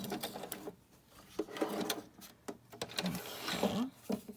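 A sewing machine zigzag-stitches across junk journal paper in short, faint, uneven bursts of rapid needle clatter.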